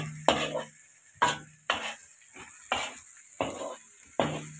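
Onions being stirred in a pan for buff ojri, six distinct scraping strokes at a steady, unhurried rhythm, each with a brief soft sizzle, close and alone with no talk.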